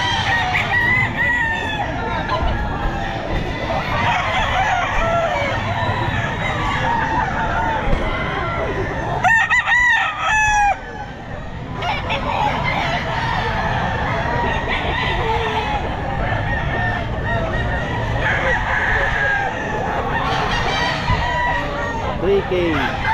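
Several roosters crow repeatedly and cluck amid a lively pet market crowd, some calls close and loud, others farther off, with people talking throughout.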